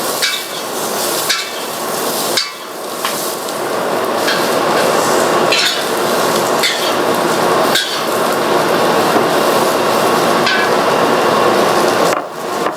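Carrots and mushrooms stir-frying in oil for a Chinese chicken dish, a steady loud sizzle running throughout with sharp clacks and scrapes of a utensil against the pan at irregular intervals.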